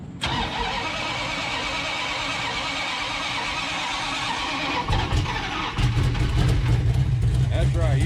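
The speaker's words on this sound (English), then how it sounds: "I'll fire it back up, Michael." A Dodge D100's big block engine with a tunnel ram intake cranks loudly and close by, then catches and settles into a rough, rumbling idle.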